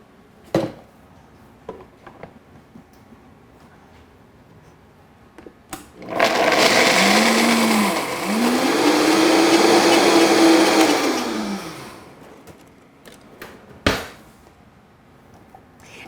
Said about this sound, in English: And I'm going to blend this right up.